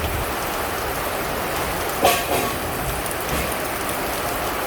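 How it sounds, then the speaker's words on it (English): Heavy rain pounding steadily on a tin roof, a dense continuous roar with one brief knock partway through. "it is pouring rain here"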